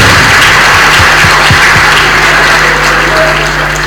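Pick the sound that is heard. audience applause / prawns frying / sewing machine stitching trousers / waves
audience applause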